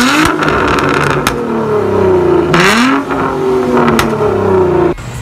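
A Subaru BRZ / Toyota FRS / GT86 sports car with its muffler removed, revving loudly up and down close by, its raspy engine note rising and falling several times before cutting off abruptly.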